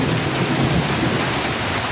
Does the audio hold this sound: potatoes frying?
no